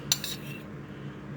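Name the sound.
stirring carrots in butter in a pan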